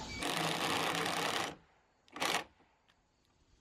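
A power driver sinks a screw into porch decking framing in one long buzzing burst lasting about a second and a half, followed by a brief second whir, with no talking.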